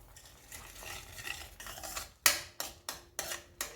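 Jaggery being stirred into porridge in a pan: soft scraping, then a run of five sharp spoon clicks against the pan near the end, close and clear with no talking.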